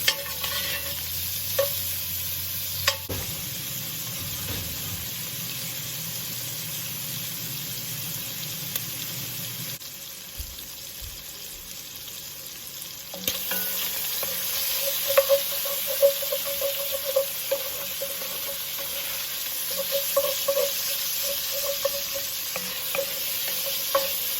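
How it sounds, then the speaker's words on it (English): Four slices of thick-cut bacon fry in a pot over medium-high heat, giving a steady close sizzle and crackle that dips quieter for a few seconds midway and then returns, with no talking. "we're going to add in our bacon. And we're using 4 slices of a thick cut bacon."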